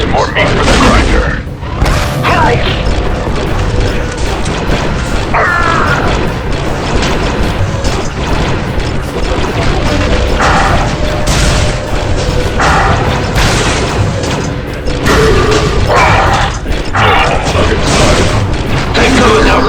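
Blaster gunfire and explosions rage through a Star Wars: Republic Commando battle, with dense rapid shots, heavy booms and crashes filling the scene continuously at high volume while voices call out over the fighting.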